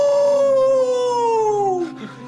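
A dog howls at night in a long, loud, close howl that slowly falls in pitch over about two seconds before trailing off.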